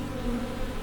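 Worker honeybees buzz in a steady, close drone that hovers without pause, a dense insect hum with no voices over it.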